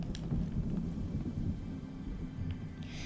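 Thunder from the storm zone in the video game Fortnite rolls as a steady, low rumble with rain-like hiss, fairly loud and continuous, with no talking over it.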